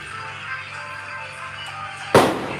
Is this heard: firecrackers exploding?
yes